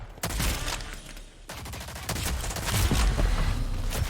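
Rapid bursts of gunfire from the shooter game Rogue Company: loud, close volleys that break off for a moment and then return as sustained automatic fire.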